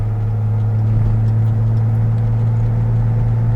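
A restomod Datsun 280Z runs while being driven, a steady, loud low engine drone with a strong hum and faint road noise underneath, holding an even pitch throughout.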